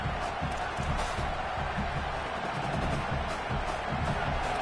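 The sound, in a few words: football stadium crowd cheering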